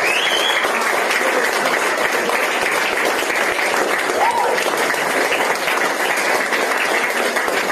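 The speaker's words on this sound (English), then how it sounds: "give him a round of applause, guys" A crowd applauds steadily at a boxing weigh-in for a Siam Warriors fight show in Cork, with dense, loud clapping and cheering for the whole stretch and voices mixed in.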